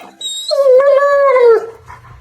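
A German Shepherd lets out a single long howl, loud and close, rising then sliding down before it fades into a brief whimper.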